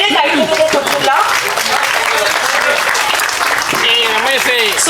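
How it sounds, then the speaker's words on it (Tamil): A loud, dense round of audience applause at a Tamil film audio launch event fills the hall continuously, with someone speaking over the clapping. "லேடிஸ் அண்ட் ஜென்டில்மேன் ப்ளீஸ் ஒரு பெரிய கைத்தட்டல் கொடுத்துடலாம்."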